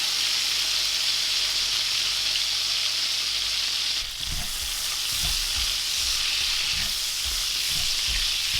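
Lemon juice squirted into a hot frying pan with melting butter sets off a loud, steady sizzle, with sharper crackling bursts partway through, heard up close with no talking.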